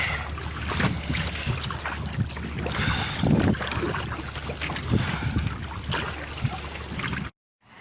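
Kayak paddling on shallow Lake Superior shoreline water: a continuous watery wash with irregular splashes and paddle strokes, mixed with wind buffeting the microphone, fairly close and without speech.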